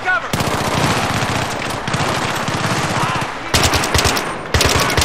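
Rapid automatic gunfire rattles in sustained bursts during Battlefield 3 campaign combat, loud and close, with short breaks between volleys and a voice occasionally underneath.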